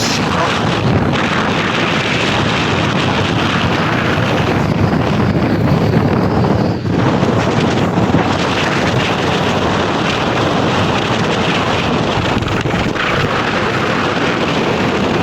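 Strong typhoon wind battering the microphone over Manila Bay, with waves washing against the shore, a loud continuous roar that barely eases across the whole stretch.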